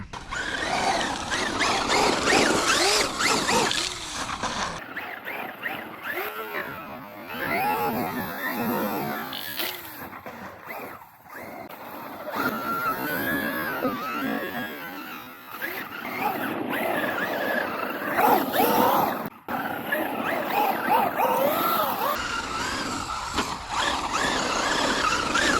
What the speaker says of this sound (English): That's what this truck's about, sliding it.